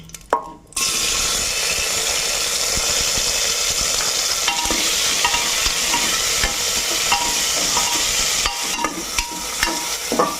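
Chopped tomatoes drop into hot oil tempered with spices and asafoetida in a pan, setting off a loud, steady sizzle and frying hiss with occasional stirring scrapes, close and continuous, no voices.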